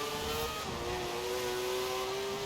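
Race cars in Forza Horizon overtake one another, with a Mazda RX-7 being passed up the inside, a steady, fairly quiet engine drone whose pitch slides slightly as the cars pull alongside.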